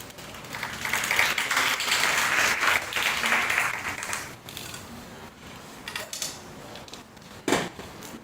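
An audience at a high school students' conference claps loudly for several seconds, the applause swelling and then fading into scattered claps.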